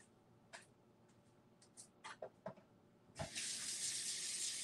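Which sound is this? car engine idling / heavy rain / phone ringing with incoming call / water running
water running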